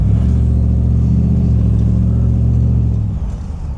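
LS3 V8 in a 1959 Chevrolet Bel Air restomod coupe rumbling loudly up close with a steady low drone, then easing off as the car pulls away.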